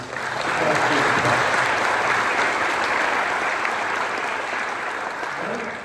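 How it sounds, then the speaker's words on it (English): Sustained applause fills a sports awards ceremony hall, a thick, even roar of many hands clapping at once that holds steady for several seconds before easing slightly. "A round of applause for all of these."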